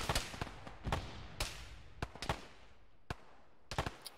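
Single gunshots from a military shooter game, Arma 3, crack out one at a time at irregular intervals, loud and sharp with short decaying tails, a few coming in quick pairs near the end.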